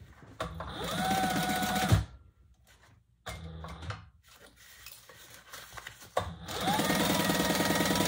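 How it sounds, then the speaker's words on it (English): A domestic sewing machine stitches across the top of a fabric crossbody bag in two fast, whirring runs separated by a pause with soft handling clicks, close and clear. "And sew across the top."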